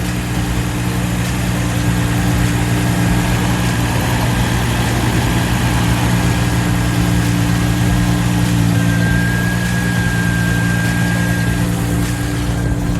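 A Nissan G35/350Z engine idles steadily for several seconds after a plenum gasket replacement, a constant low hum and rumble with an even, unchanging tone.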